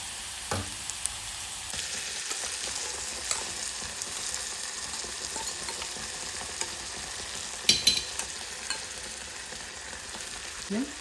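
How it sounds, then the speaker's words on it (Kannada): Green beans sizzle and crackle steadily in plenty of hot oil in a home kitchen, with a spoon occasionally scraping and stirring, including a sharper clatter near the end; no one speaks. "ಬೀನ್ಸ್ ಚೆನ್ನಾಗಿ ಹುರಿಬೇಕು, ಆ ಥರ ಹಿಂಗೆ."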